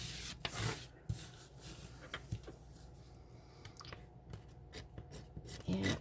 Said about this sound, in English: I am scraping off the little bit that I did not get up.